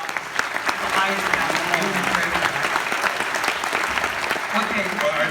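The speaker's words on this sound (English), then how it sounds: "I think we should give a round of applause to Stan Winston" Sustained applause from a festival audience at a Beyond Fest Q&A screening of Predator and The Running Man, dense steady clapping filling the room for several seconds with some faint voices mixed in.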